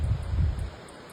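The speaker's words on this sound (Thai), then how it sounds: "ลมธรรมชาตินะคะ" Natural wind gusting through trees, a soft low rustling roar that fades after a moment, steady and fairly close with no talk.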